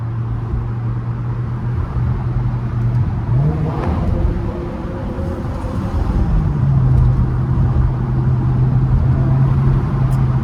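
A BMW E60 M5 engine drones in a tunnel, a loud steady hum with a rising pitch sweep around the middle, echoing over constant road rumble.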